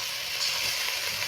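Ginger garlic paste hitting a pan of fried-down onion and melted tomato, producing a brief, even hiss of sizzling at moderate volume with no voices.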